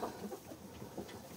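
Soft, low clucking from a rooster in a quiet farmyard, faint and somewhat distant over a muffled background hum.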